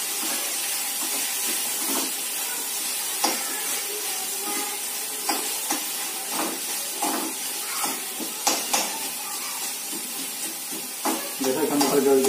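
Tomatoes for dal makhani fry and hiss in a pan, with repeated spoon stirs and scrapes punctuating a steady sizzle close by, louder clatter near the end.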